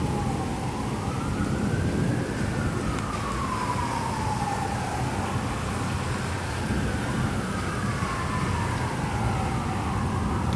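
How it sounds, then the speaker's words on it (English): Emergency sirens wail in rising and falling sweeps during a heavy thunderstorm, steady and fairly distant under a dense wash of rain and rumbling. "The sirens."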